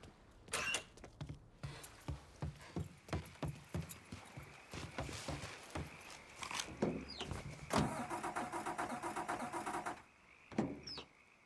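A car in Mafia III Definitive Edition cranks over with a rapid series of rhythmic starter pulses, then catches into a steady, louder running engine, heard up close before it cuts out.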